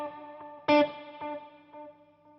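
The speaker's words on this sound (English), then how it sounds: "It's got a nice reverb." Electric guitar tone with reverb and delay, a single plucked chord ringing out with sustained harmonics and softer repeated echoes decaying over a couple of seconds, no talking.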